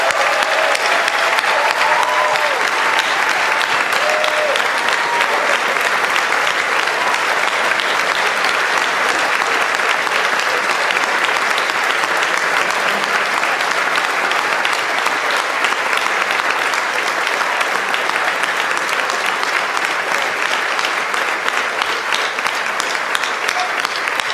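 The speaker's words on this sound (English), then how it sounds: "he deserves one last really great round of applause" Sustained, loud applause fills a King commencement ceremony as the graduation audience claps steadily for a long, unbroken stretch without pause.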